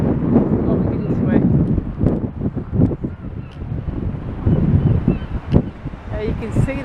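Wind buffets the microphone outdoors around the perimeter of the St Chad's Hotel, a steady rumbling roar throughout with gusty swells, mixed with a voice talking close by.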